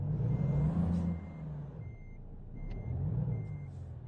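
Intermittent reversing beeps from a truck in American Truck Simulator sound under a rumbling diesel engine that rises and falls, with short hissing bursts of air between the beeps.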